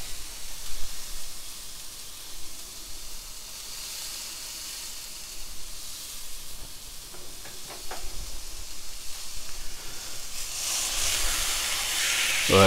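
Roast beef searing in a hot pan as it is turned to brown on all sides, a steady close hiss of sizzling that swells louder toward the end.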